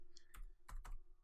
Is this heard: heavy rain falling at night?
no